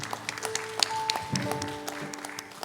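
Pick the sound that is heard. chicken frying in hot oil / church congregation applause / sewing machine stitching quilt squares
church congregation applause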